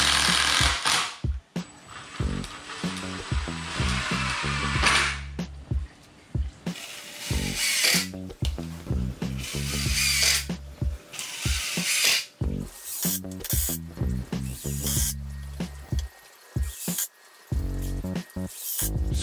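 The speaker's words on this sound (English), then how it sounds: "Putting these screws in a crisscross pattern." A power driver sinks screws into a 2x4 in a crisscross pattern, in a series of loud, close whirring bursts separated by short pauses, with no talking.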